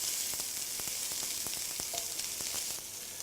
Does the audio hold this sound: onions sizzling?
yes